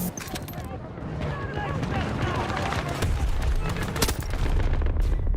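Video game sniper gunfire cracks in repeated sharp bursts amid a dense, noisy battle soundscape with other shots and booms, all loud and close, while a player talks over it.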